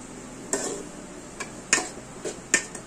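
Spatula scraping and stirring egg and cabbage fry in a hot pan, a few sharp clacks and scrapes spaced irregularly over a soft background sizzle, close and fairly quiet with no talking.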